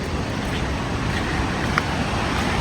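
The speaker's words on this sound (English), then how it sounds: "So the roar of the water is deafening." Roaring waterfalls near a hut campsite in the Richmond Ranges of New Zealand, a dense, constant wash of rushing water, loud and close, with no voices over it.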